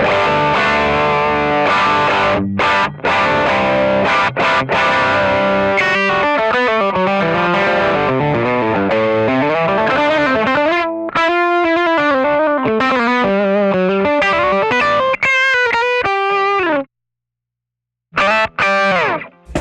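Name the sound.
electric guitar through distorted amp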